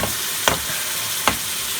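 Chicken tikka achari curry with base gravy and pickle pieces is stirred in a sizzling pan, two distinct spoon scrapes standing out over a continuous close fry.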